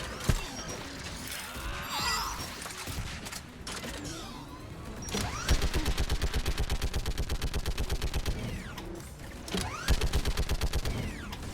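Mounted turret fire in the video game Mass Effect 3, a long run of rapid, evenly spaced loud shots forming steady automatic bursts, with a short pause before a final burst, amid mechanical clanks and game ambience.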